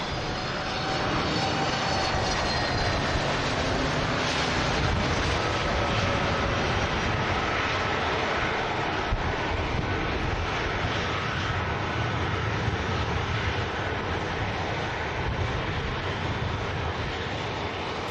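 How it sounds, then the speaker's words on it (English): A KLM Airbus A321neo touches down on runway 23 right at Manchester Airport, its engines a loud, steady roar with a whining tone that gradually shifts and persists throughout, with no talk over it. "KLM A321neo just touching down on runway 23 right, coming in from Amsterdam Schiphol"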